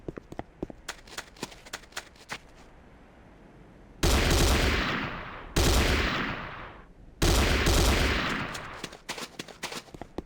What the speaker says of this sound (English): The next weapon is the Corbretti AR-70 Raptor automatic rifle.